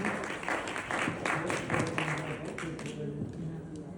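Indoor audience at a birthday anniversary celebration in Devlali claps, soft scattered applause underneath ongoing talk and faint background music.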